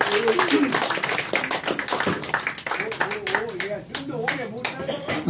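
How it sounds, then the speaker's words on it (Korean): A crowd claps for chairman Kim Seong-do at a 60th-birthday banquet, dense steady applause running throughout with voices mixed in underneath. "훌륭하신 우리 김성도 회장님에게 다시 한번 큰 박수 주시면 참 좋겠습니다."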